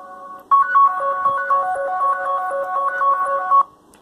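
An electronic phone ringtone plays a bright, repeating melodic pattern for about three seconds, close and clear, then stops abruptly.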